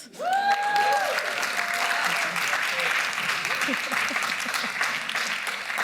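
An audience claps steadily, a dense wash of applause throughout, with a voice briefly speaking over the start.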